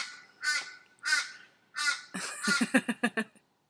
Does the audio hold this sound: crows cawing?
yes